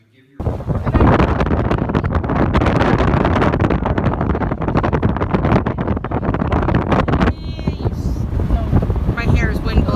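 Strong wind buffets the microphone outdoors on a windy day, a loud continuous roar with gusty rumble, and a voice speaks briefly near the end.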